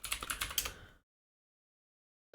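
Quick, close clacks of fingers typing on a computer keyboard for about a second, followed by silence.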